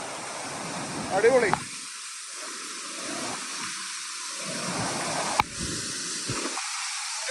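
Powerscourt Waterfall in County Wicklow, Ireland, gives off a steady, broad rushing roar of falling water that runs through the whole scene while a person talks briefly over it.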